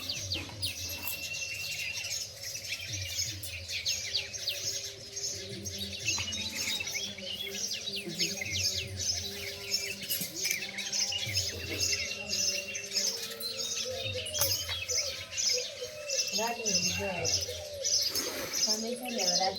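A bird calls repeatedly near a house with bright chirps and tweets alongside lower cooing, continuing throughout while someone talks over the calls.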